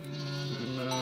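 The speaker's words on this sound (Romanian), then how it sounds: "Oaie bătrână cu doi dinți în gură." An old ewe with only two teeth left bleats in a long, steady, wavering call close by during a transhumance drive of sheep in Oltenia, Romania, with no talk over it.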